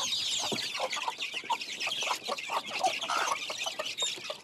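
Hens and chicks cluck and peep in baskets during feeding on the Mentawai Islands, a busy, close chorus of short overlapping calls that continues the whole time.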